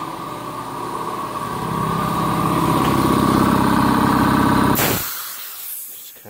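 A John Deere 4630 tractor engine runs loud and steady close by, its low rumbling idle holding for about five seconds before it cuts off abruptly, leaving only faint ambient noise.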